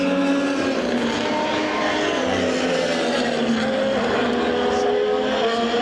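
Formula 1 race cars during a practice session in Austria, engines screaming loudly and continuously as cars pass near the track, high whining tones rising and falling with overlapping passes.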